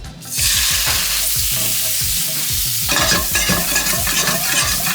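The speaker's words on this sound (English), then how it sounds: "My pan's already preheated, in go my shrimp." Jumbo shrimp hit a preheated pan of olive oil seasoned with salt and Old Bay, giving a loud, steady sizzle with repeated scraping stirs close by and no talking.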